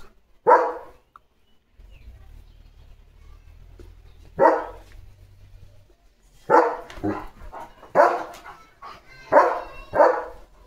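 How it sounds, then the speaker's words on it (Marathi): A German Shepherd named Leo barks in separate loud bursts, two isolated at first and then a quicker cluster of four or five near the end, with a low rumble in the gaps between barks. "नुसतं भुंकायला सांगा याला."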